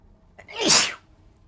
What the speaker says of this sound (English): Had to sneeze there, sorry.